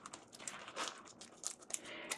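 Program cards for the Abaddon: Shattered Command board game expansion being shuffled by hand, a quiet run of crisp papery riffles and flicks coming in irregular bursts, close up.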